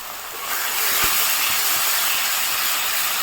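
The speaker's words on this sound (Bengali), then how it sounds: "নেড়ে চেড়ে ভালো করে কষিয়ে নেব।" Yardlong bean paste seasoned with salt and turmeric fries in a pan while being stirred, producing a loud, steady close hiss with a faint knock of the spoon.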